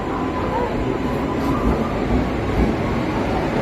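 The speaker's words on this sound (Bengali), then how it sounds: "এই যে আমাদের ট্রেন ঢুকে গেছে" Santragachi Puri Express pulling into a station, a continuous low rumble and rolling clatter of the train close by, with station crowd noise around it.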